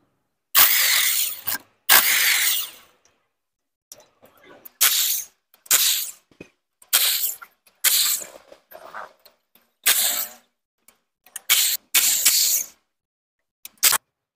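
Work on the clutch of a Honda Twister motorcycle brings loud, close bursts of ratcheting metal, around ten separate rounds of rapid clicking with short silent gaps, like a ratchet wrench loosening cover bolts.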